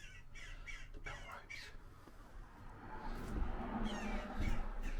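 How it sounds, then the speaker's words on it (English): Crows caw repeatedly from nests high in an abandoned historic church bell tower, a series of harsh calls in the first half, while wind or movement noise builds and a person speaks nearby. "you can hear the birds. There's some nesting up there."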